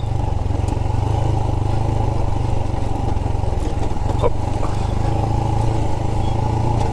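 A Royal Enfield Himalayan 411 motorcycle ridden off-road on sandy tracks gives a loud, close, steady engine drone that runs unbroken throughout.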